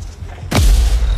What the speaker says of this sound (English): I have time to use that mortar.